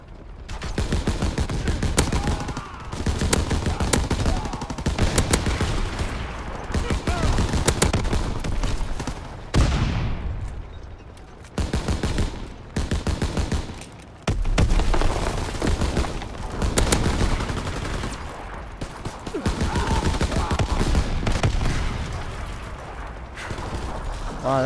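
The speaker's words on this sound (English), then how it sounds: "I'm sad this can't shoot through walls, even though it's a fucking 50 cal." .50 cal gunfire in a video game rings out in long, heavy bursts of rapid shots, loud and close, broken by brief pauses between strings of fire.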